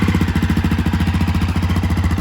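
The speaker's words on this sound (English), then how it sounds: "maybe you can hear that fuel injection starting up." A 2020 Honda CRF250F dirt bike with its stock exhaust starts and settles into a steady, fast idle. The close thumping engine pulses repeat evenly and stand alone, with no talk over them.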